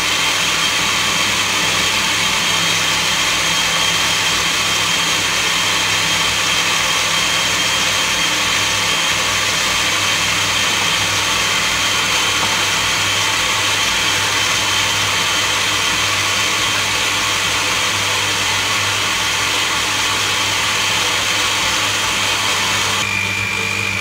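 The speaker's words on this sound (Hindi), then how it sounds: "तकरीबन 2 से 3 मिनट हम लोगों ने अच्छे से इसको ब्लेंड करना है।" An electric blender runs continuously while mixing almond cake batter, a loud, steady motor whine and hum with no pause over twenty-four seconds and no talking.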